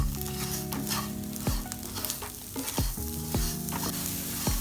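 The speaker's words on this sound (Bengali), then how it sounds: "এবার আমি চিনি এবং নারিকেলগুলোকে অনবরত নাড়তে থাকবো।" Sugar and coconut cooking in a pan, stirred constantly, give a steady sizzle and fry with repeated scraping strokes of the spoon, close and clear.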